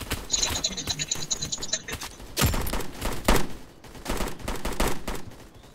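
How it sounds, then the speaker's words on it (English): Rapid gunfire crackles through a Roblox Blackhawk Rescue Mission 5 firefight, with a fast burst of shots, heavier booms mid-way and continuous mechanical clatter, fairly loud and without talk. "Start shooting where the tracers are coming from."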